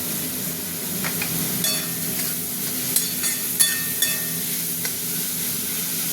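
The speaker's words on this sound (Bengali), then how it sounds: "ভাজা হতে থাক। সবজিগুলো ভাজা হয়ে গেছে।" Mixed vegetables frying in hot oil and butter in a pan for fried rice give a steady close sizzle, with scattered sharp clicks and scrapes from stirring, no voices.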